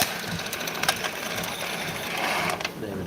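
A Concept 2 rowing machine chain pulled over its sprocket gives a close, continuous metallic rattling whir with faint clicks, steady for a few seconds.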